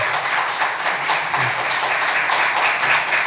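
A church congregation gives steady, dense applause through the whole stretch, broad and even in loudness as it fills the sanctuary, with no voices over it.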